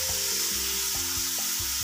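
Fried mushrooms are turned over in sauce in a pan, a constant dense sizzle under repeated low scraping strokes of a spatula, close and steady.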